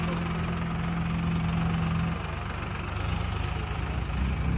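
Swaraj 855 and Eicher 551 tractor engines strain against each other in a road tug of war, a loud, steady low diesel drone with a constant rumble throughout.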